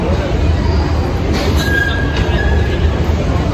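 A train at a station rumbles steadily and close by, with a thin metallic wheel squeal rising partway through over a constant low roar.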